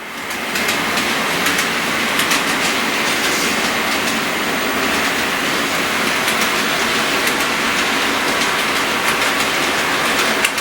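Model train running steadily on a scale layout with mainline track near an ethanol plant, a continuous close rolling rumble with faint rhythmic rail clicks and no talking.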